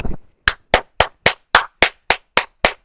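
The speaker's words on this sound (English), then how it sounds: "What we need to do is offer more rounds of applause" Ten sharp, evenly spaced claps ring out one by one in a steady rhythm, loud and close with silence between each strike.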